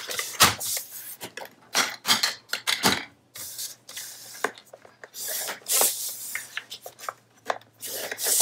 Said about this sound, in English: now we are going to score 3 of the 4 sides to create a pocket